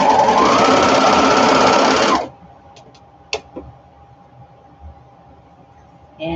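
A sewing machine runs steadily and loudly along a curved fabric seam for about two seconds, then stops, leaving quiet room tone with a few small clicks.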